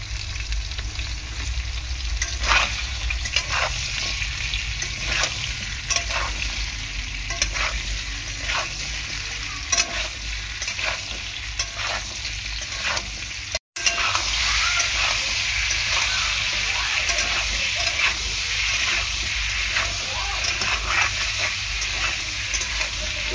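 Potato and papaya chunks sautéing with salt in a pan, a steady sizzle running the whole time with repeated scraping stir strokes, close and loud, broken by a single brief dropout midway.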